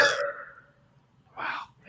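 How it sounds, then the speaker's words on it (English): A loud burp opens, then two shorter belch-like bursts follow after a pause, each close and forceful with no talk over them. "I heard your burp 4 times"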